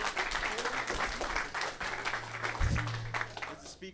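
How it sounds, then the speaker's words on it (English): A seminar audience gives a round of applause, a busy patter of clapping heard throughout with a low hum and a few brief murmurs of voices mixed in. "round of applause?"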